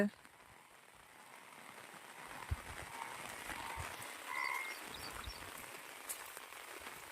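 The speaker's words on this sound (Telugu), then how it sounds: "వర్షం మాత్రం దంచి కొట్టింది" Heavy rain pours down outdoors as a soft, continuous hiss heard from a distance, with a single dull thud partway through.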